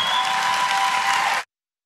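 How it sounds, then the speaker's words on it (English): An audience claps steadily at a political speech, dense close applause holding for about a second and a half before cutting off abruptly into silence. "It's a good applause line."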